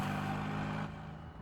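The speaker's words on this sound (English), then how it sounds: "This car sounds like a piece of shit" Car engine in a scene from the Death Note anime: a steady, loud mechanical drone and hum that drops slightly in level partway through.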